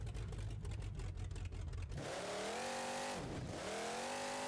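A monster truck in BeamNG.Drive, fitted with quad cantilever coilovers, rumbles roughly, then its engine revs up in rising whining sweeps, dips, and climbs again, loud and close with no voices.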